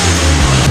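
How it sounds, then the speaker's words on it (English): A Nissan Gloria's VQ turbo engine revs in a short, loud burst with a steady low drone. "here is a quick clip of somebody with a Nissan Gloria that is revving their car"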